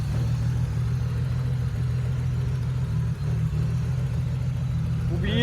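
Car engine idling with rigid engine mounts, a loud, steady low rumble with a constant hum that shudders briefly near the middle, then a rising whine or tone enters at the very end.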